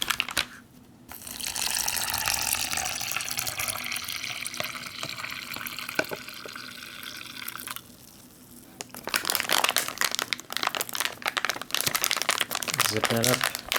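Plastic MRE pouch being torn and opened, loud crinkling and crackling of stiff plastic handled close to the microphone, with a short quieter pause midway before more rustling and crumpling.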